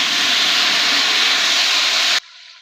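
Tomatoes and green chilies hit hot oil with whole spices for chicken masala biryani, giving a loud, dense sizzling hiss that holds steady and then cuts off abruptly, leaving a faint residual sizzle.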